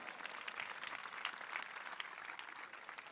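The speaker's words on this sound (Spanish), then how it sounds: "Fuerte el aplauso." An audience at a political rally in Rosario breaks into steady applause, a dense even wash of clapping heard from some distance, fairly faint, with no voices over it.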